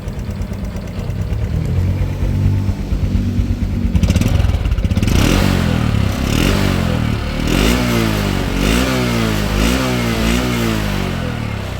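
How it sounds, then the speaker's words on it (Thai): A 2022 Honda Wave125i motorcycle engine cranks and catches, then settles into a loud, steady idle with a rhythmic putter and occasional light revving. "เดี๋ยวมาฟังเสียงเครื่องยนต์นะครับ ระบบไฟปกตินะครับ สตาร์ทแช่เดียวติดนะครับ เครื่องเงียบเงียบนิ่ม"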